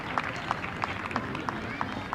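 An audience at a Christmas celebration of a pastors' association claps in a steady, rhythmic beat, the evenly spaced claps sounding several times per second with a busy crowd murmur underneath.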